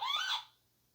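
Sound-effect button on a Disney remote control mouse droid toy: a single brief rising electronic chirp, bright and close, that fades out quickly into quiet.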